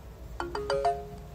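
Mobile phone ringtone, a short melodic run of four quick bright chime notes rising in sequence, close and clear over a quiet room, with no talking.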